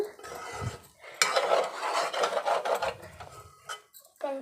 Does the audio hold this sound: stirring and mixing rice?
yes